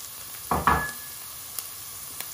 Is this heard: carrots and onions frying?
yes